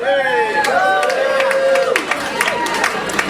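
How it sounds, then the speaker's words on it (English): An audience at a Pecha Kucha presentation night cheers loudly with whoops and shouts and some scattered clapping, a dense burst of crowd noise lasting a few seconds. "cheer loudly."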